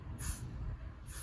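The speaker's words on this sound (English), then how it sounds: "I'm also going to go in and spray just a little bit of gas-free glue in this area" A can of gas-free glue sprays in two short hissing bursts, close by, with a steady low background murmur between them and no talk.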